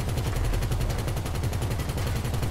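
Rapid automatic gunfire in the video game GTA 5, a fast, evenly spaced burst of shots sustained throughout at a steady level.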